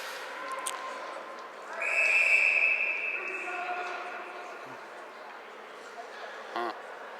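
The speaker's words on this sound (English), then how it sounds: "This ref likes his whistle." A referee's whistle shrills out over crowd murmur at a high school hockey game between DS-Weston and Medway, one sustained blast of about two seconds that dominates the rink noise before fading back into the crowd.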